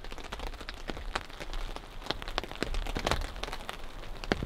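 Rain falling at a campsite during a storm: steady patter with sharper individual drops hitting a nearby surface, close and fairly even throughout, with no voices.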